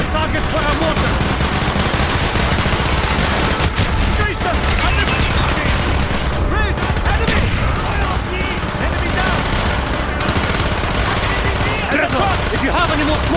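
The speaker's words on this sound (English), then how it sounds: "Firing mortar!" Dense, continuous gunfire and explosions fill a battle scene in the Call of Duty: Black Ops video game, with mortar fire booming amid rapid machine-gun bursts, loud and unbroken, while voices shout over the noise.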